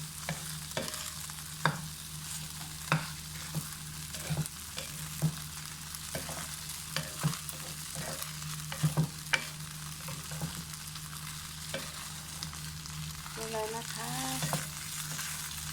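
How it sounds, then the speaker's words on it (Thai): Khanom jeen rice noodles with egg, coriander and spring onion are tossed gently in a hot pan: a steady close sizzle runs throughout, broken by light, irregular clicks and scrapes of a utensil, with no talking. "ผัดเบาๆนะคะเบาๆ งั้นขนมจีนจะเละนะคะผัดเบาๆนะคะ"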